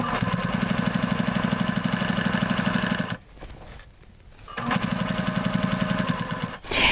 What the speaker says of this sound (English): What I'm doing is I'm stitching right in that crease.